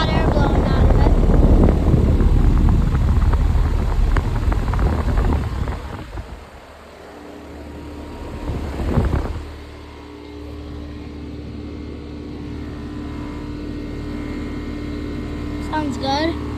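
A 3-ton outdoor air conditioner unit blowing hot air from its fan: a loud, steady whooshing roar that eases to a lower, constant hum with a fainter tonal drone as the listener moves around it.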